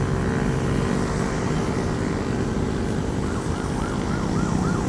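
A police car siren wails faintly in the distance, its rising and falling tone emerging midway over loud steady road and traffic rumble.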